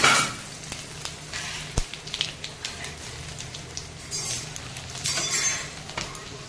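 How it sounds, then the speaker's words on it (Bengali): Dried red chillies, cumin seeds and chopped garlic crackle in hot oil for a spicy boal fish curry, a close, moderate sizzle broken by light metal clinks and taps of a utensil, with no voices. "শুকনো লঙ্কা দিলাম, জিরে দিলাম, এই রসুন কুচিগুলো দিয়ে দিলাম,"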